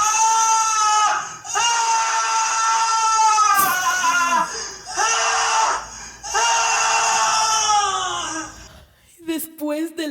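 A man screams in rage and pain, his body torn up after being dragged: long, loud, anguished wails repeat in several drawn-out bursts with short breaks between them.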